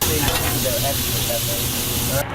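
Food sizzles loudly and steadily on a hot cooking surface in a taco shack kitchen, a close continuous frying hiss with faint stirring beneath.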